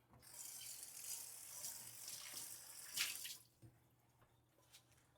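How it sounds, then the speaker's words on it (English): A pan used for cooking salmon is rinsed under a running kitchen tap, with steady splashing water that swells near the middle, then cuts off into a few faint drips. "Just gonna give this a rinse."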